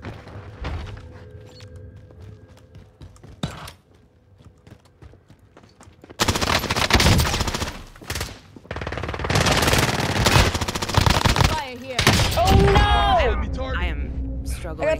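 Gunfire in the Call of Duty game Rebirth Island: sparse shots at first, then dense bursts of rapid machine-gun fire crackling loudly through the second half, with players talking over the action.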